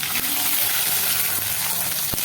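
Mustard seeds, radhuni and ginger tempering in hot oil for a Bengali fish curry, giving a loud, steady, close sizzle and hiss throughout.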